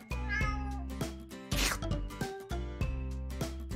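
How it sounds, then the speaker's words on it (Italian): Cartoon cat meowing in repeated short cries over busy music, a brief rustling burst partway through, loud and close with no talk. "Miau! Il mio prezioso gattino!"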